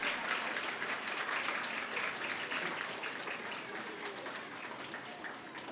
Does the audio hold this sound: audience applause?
yes